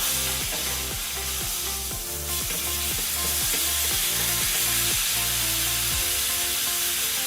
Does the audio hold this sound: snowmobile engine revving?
no